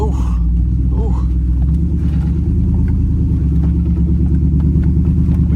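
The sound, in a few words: off-road pickup truck engine climbing steep rocky hill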